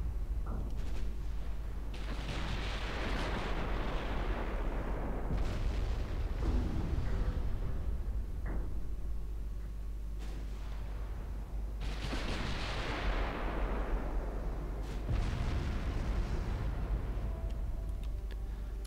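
Old battlecruisers fire their 14-inch guns in the naval game Ultimate Admiral Dreadnoughts, giving several loud booming blasts with rumbling decays, spaced irregularly over a constant low engine drone.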